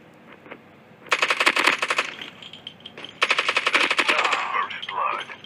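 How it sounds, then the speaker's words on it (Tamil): Suppressed automatic gunfire in the COD Mobile battle royale game, two loud rapid bursts of clicking shots, the first about a second long and the second longer, with a brief quieter gap between them. "கன்னோட சவுண்டு வித்தியாசமாக இருக்குல்ல, நல்லா சப்ரஸர் போட்டு ஏற்றிருக்கானுங்க போல்"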